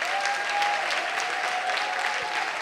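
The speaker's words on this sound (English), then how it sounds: "Please give them all a round of applause." Audience applause fills the hall at a city arts awards ceremony, a dense steady clapping that runs without a break, loud and close, with no talk over it.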